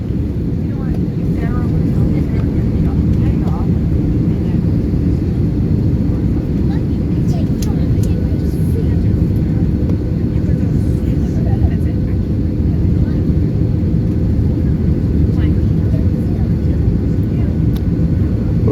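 Inside the cabin of an American Airlines Airbus A321 descending toward Phoenix Sky Harbor, a loud, constant low engine and airflow roar fills the whole stretch, with faint voices beneath it.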